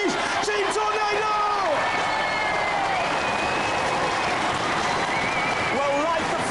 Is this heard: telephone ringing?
no